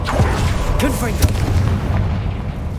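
Confringo spell blasts in Hogwarts Legacy sound as loud, booming bursts with crackling whooshes over a steady, dense game background.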